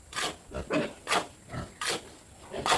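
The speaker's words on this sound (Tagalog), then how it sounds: "Umbang ang mga baboy." Pigs in a pen under construction give short, rough grunts in a steady run of separate bursts, fairly close and moderately loud, with no talk over them.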